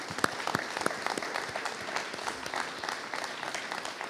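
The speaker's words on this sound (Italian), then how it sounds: "Facciamo un applauso a questi comuni." A crowd applauds steadily at an art exhibition opening, a dense patter of many hands clapping, fairly close and sustained without pause.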